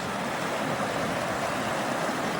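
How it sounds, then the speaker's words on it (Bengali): Strong current of the Kangsabati river rushes past in a continuous broadband roar, steady and close with no voices. "বিরাট স্রোত"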